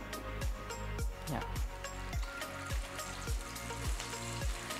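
A second batch of crispy kids' snacks deep-fries in oil with a steady bubbling sizzle and a regular run of sharp pops and clicks, heard close and moderately loud.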